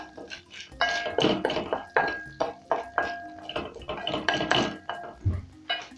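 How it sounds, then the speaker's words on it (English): Popcorn kernels stirred in a pot with salt and oil, for caramel popcorn, rattle against the metal in repeated scraping, clanking bursts with a faint ringing tone, close and loud, no speech. "I'll go in with my popcorn seeds. And we are going to mix this in properly."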